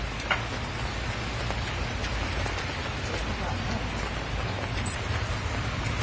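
Steady rainfall patters continuously, a soft even hiss with occasional louder drips, and a brief sharp tap near the end.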